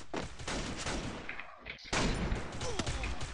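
USP pistol gunfire in Garena Free Fire gameplay: a rapid, fairly quiet string of shots with a brief lull midway before the firing resumes.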